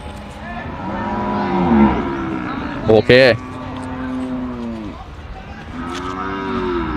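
Cattle at a rural livestock market low in long, drawn-out moos, several calls overlapping near and farther off, while someone talks briefly over them and a short sharp clatter cuts in midway.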